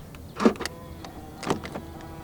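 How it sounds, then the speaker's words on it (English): Two short mechanical clunks about a second apart, the door lock of a 2023 Proton Persona 1.6 Executive actuating via the keyless door handle button, fairly quiet with no voices. "To lock the car, press the black button on the driver's side door handle."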